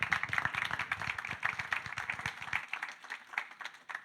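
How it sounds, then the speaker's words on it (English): Audience members give a short burst of brisk clapping to welcome two speakers, fairly close and steady at first, then thinning to scattered claps before stopping. "let's have a round of applause to welcome Emma and Irene, please"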